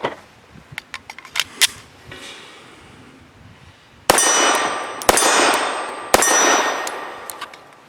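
Three loud, sharp pistol reports from a Tisas Regent SP 1 firing Remington HTP 147 grain subsonic hollow point rounds, spaced about a second apart, each with a short ringing decay, following a stretch of faint clinks and handling noise.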